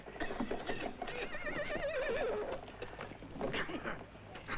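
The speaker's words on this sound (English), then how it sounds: "Jack, I found a horse." In a 1973 spaghetti western, a horse gives a wavering neigh amid steady clip-clop of hooves, with outdoor ambience and faint talk underneath.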